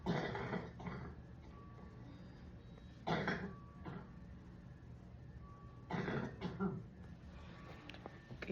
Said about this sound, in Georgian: კიდევ კარგი დაახველა ახლა